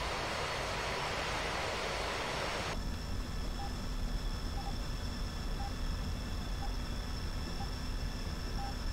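Steady jet engine roar of a MiG-21 fighter in the DCS flight simulator, a constant broadband drone with a thin whine on top, running throughout with no talk.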